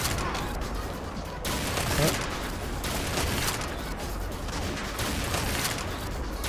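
Sniper rifles fire in the shooting video game XSHOT, with several sharp shots and bursts of gunfire standing out from a dense, steady wash of game noise.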